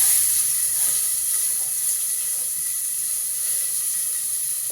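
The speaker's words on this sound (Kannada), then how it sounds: "ಇವಾಗ ನೋಡಿ ಈರುಳ್ಳಿನ ಆ್ಯಡ್ ಮಾಡ್ತಿದ್ದೀನಿ" Onions go into hot oil already seasoned with mustard seeds and curry leaves for a mushroom gravy, producing a strong, steady frying hiss that holds evenly throughout without talk.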